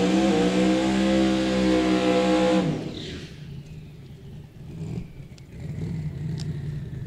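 A drag racing truck engine holds a loud, steady high rev while building boost for several seconds, then cuts off sharply. A lower rumble and idle follow, with faint crowd noise under it.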